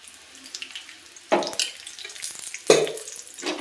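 Jaggery and ghee stirred in a pan on low flame: soft scraping and gentle bubbling, with two louder spoon strokes against the pan, close and fairly quiet.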